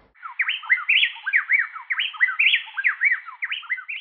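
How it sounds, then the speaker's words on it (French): A male and female plain-tailed-type South American wren (troglodyte maculé) sing a duet, rapid interlocking whistled phrases alternating seamlessly in a continuous, loud, close song with no pause and nothing else heard. "Ce que vous venez d'entendre n'est pas le chant d'un individu seul, mais celui d'un mâle et d'une femelle enchaînant leurs phrases"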